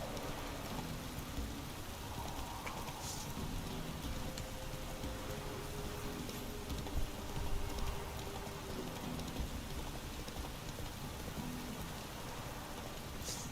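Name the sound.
heavy rain in The Witcher 3 video game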